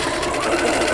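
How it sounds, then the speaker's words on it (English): A sewing machine stitches fabric for a Double Wedding Ring quilt, a loud continuous close-up whirring hum with a fast steady mechanical rhythm throughout. "now I'm going to take it over to the sewing machine"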